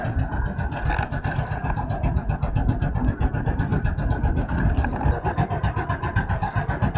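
A boat engine runs steadily at sea, a continuous close mid-pitched motor drone with a pulsing chug and no breaks or talking.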